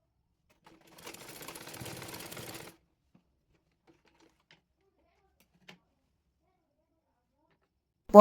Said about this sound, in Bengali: পাইপিংয়ের কাপড়টি চিকন করে মুড়িয়ে সেলাই করে নেব।